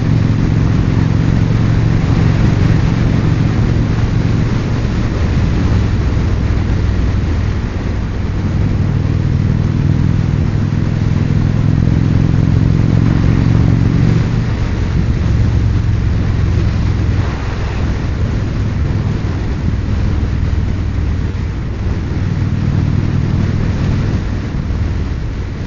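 A cruiser motorcycle, an Indian Springfield Darkhorse, heard on the road from the rider's position, with a continuous loud low engine drone that swells with throttle changes, mixed with heavy wind rush and no voices.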